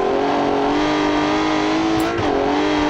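A bus engine from the car-building game Automation drones loudly and steadily, with a brief dip in pitch as it shifts, then settles back into a sustained hum.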